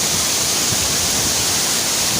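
Curug Kembar, a twin waterfall on Mount Kayangan, roars up close, a loud, dense and unbroken rush of falling water.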